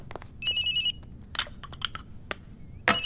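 A telephone rings in a Hindi comedy scene, electronic trilling bursts repeating near the start and again at the end, with scattered clicks and faint room noise between.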